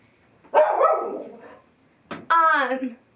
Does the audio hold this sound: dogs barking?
yes